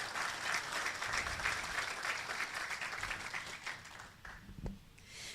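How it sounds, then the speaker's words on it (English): A room of people claps at a student auction held by an auctioneering college, a full steady round of applause that thins and tapers off during the last second or so. "How about a round of applause for Melanie, ladies and gentlemen?"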